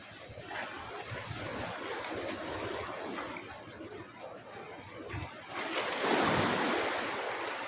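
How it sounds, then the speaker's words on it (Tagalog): Ocean waves at the shore, a broad hissing wash that swells and recedes, building to a louder surge near the end, with wind buffeting the microphone. "Gusto kong balod guys."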